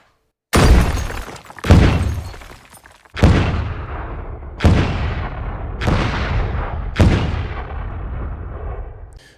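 A series of about six heavy explosion blasts, each a loud, close boom trailing off into a long rumbling decay.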